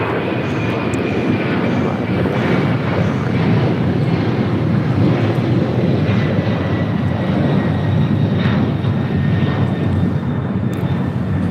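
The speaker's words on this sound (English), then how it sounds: "This is Delta Airlines 951 taking off to JFK on a 767-300ER." A Delta Boeing 767-300ER jet takes off from LAX, its engines giving a loud, continuous roar throughout, with wind buffeting the microphone.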